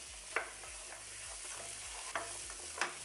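Vegetables fry in a tablespoon of oil with a faint, soft sizzle, broken by three sharp stirring scrapes and clinks.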